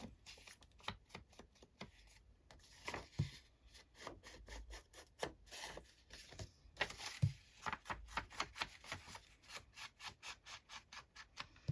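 A blending brush rubs repeatedly around the edges of a paper book page, producing a quiet rhythmic series of soft scratchy swishes, close and faint, with no talk.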